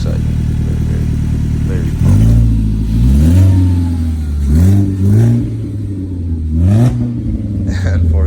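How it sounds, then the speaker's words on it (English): A newly installed engine in a 2016 Ford Focus SE cranks and fires up for the first time, then revs up and down in several loud rising and falling surges close by, with someone talking over it. "here's the new motor, starting up for the first time"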